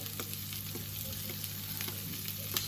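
Brussels sprouts fry in oil in a pan, giving a steady close sizzle with scattered pops and stirring clicks over a few seconds, with no voices.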